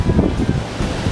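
Sea waves crash along the shore at Puerto de la Cruz, a loud, continuous roar of surf with wind buffeting the microphone and no voices.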